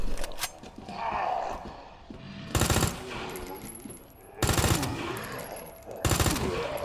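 Gunfire in Resident Evil 2 as Claire fires a weapon, heard as three loud, sharp bursts spaced a couple of seconds apart over a low, murky game background.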